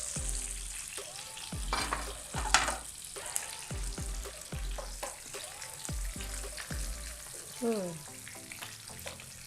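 Onion oil frying steadily in a pan with repeated stirring and scraping strokes, a dense close sizzle throughout and a few brighter clinks, no talk over it.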